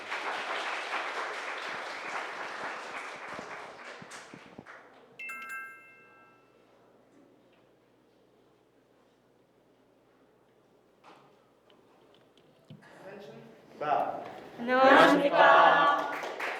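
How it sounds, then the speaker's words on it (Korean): An audience claps to welcome a high school team at a regional student competition, a steady patter of applause for about four seconds that fades into a quiet hall, with distant rustling and murmured talk rising near the end. "동탄국제고등학교 유스티치아 팀을 박수로 맞아주시기 바랍니다"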